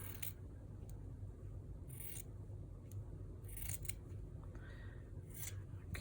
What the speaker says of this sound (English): So I'm going to have to cut me a strip.